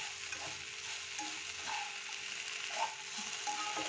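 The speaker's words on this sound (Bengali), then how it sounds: "এবার একটু নাড়িয়ে দিয়ে আবার একটু ঢাকা দেবো" Fresh garden broccoli frying in a pan is stirred, producing a soft, quiet sizzle with intermittent scraping and clicking of the utensil against the pan.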